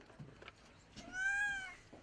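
A blind cat meows once at a veterinary clinic, a single drawn-out, fairly quiet cry heard close by in a hushed room.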